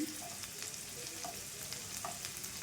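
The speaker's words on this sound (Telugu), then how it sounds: "ఇప్పుడు ఇదైతే మంచిగా వేయించుకుందాం" Bitter gourd and onion frying in oil, a steady close sizzle with a few soft clicks of stirring spread through, with no talking.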